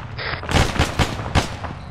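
Gunfire in the video game ArmA 3 comes as a rapid series of sharp, loud shots, roughly five or six close reports in quick succession with no talk.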